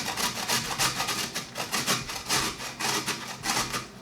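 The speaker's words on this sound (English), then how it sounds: "So now all we're going to do is just grate these up." Fresh beets with skins on being grated by hand for fermented sauerkraut, a close, rhythmic rasping scrape repeating in steady strokes for several seconds.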